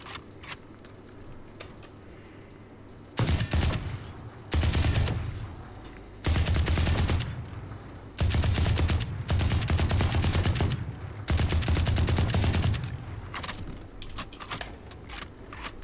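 Rapid bursts of automatic gunfire from a quick-firing gun in Valorant, five or six loud, separate strings of shots of a second or two each, broken by short quiet gaps, with no voices.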